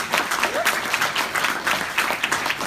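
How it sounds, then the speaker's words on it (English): Audience applause at a Badger Trust conference welcoming a speaker, brisk clapping from a seated room with sharp individual claps standing out, running throughout the short stretch. "Let's have a round of applause."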